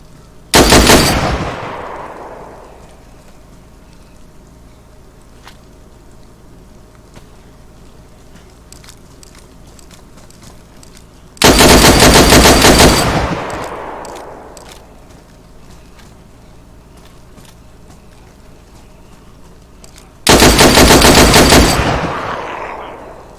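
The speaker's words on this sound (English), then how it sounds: "Bullets hitting the rocks." Three separate loud bursts of automatic gunfire in DayZ, each a dense rapid volley with bullets striking rocks, spaced roughly ten seconds apart, with quieter ambient game sound between them.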